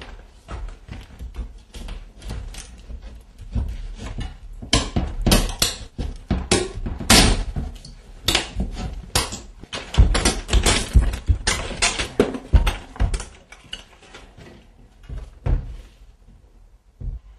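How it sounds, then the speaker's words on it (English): A firefighter's hook tears through a lath and plaster ceiling, a rapid series of loud cracking thumps and crunches with debris clattering down, easing off near the end. "the handle of the tool was between both studs, and we broke the lath very good"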